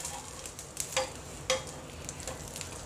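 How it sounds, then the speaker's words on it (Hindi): A Mughlai paratha fries in ghee in a pan, giving a steady low sizzle with a few sharp crackles and pops close by, and no talking. "इसे दोनों तरफ से अच्छे से पका लेना है, सुनहरा लाल कलर का कर लेना है हमें।"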